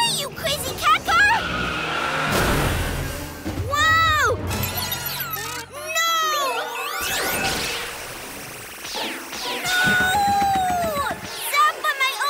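A cartoon cat-shaped car races and skids, with revving whooshes, squealing tires and a crash-like impact, mixed with cartoon music and sweeping effects.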